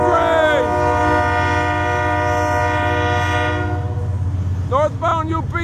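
A northbound Union Pacific freight train led by locomotives 7235 and 6943 passes loudly, its horn sounding in long, blaring blasts over a heavy, steady rumble, then a shorter horn burst near the end.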